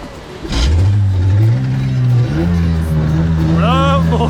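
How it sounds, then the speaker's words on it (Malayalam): A speedboat engine at Kovalam beach cranks and catches, then settles into a loud, steady motor drone that climbs in pitch as it revs, very close and continuous with a short squeal near the end. "ഇവിടെ ബോട്ട് സ്റ്റാർട്ട് ചെയ്തോണ്ടാ 20 മിനിറ്റാണ് ഇവർ പോവുക"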